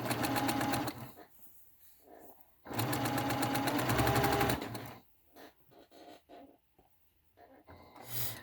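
Sewing machine stitching a face mask after rethreading, two bursts of close steady whirring separated by a pause, then intermittent faint handling noises.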